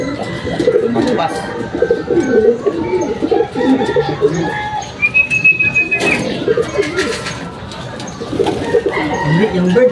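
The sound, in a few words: racing pigeons cooing at the loft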